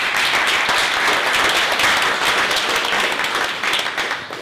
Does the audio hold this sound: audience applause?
yes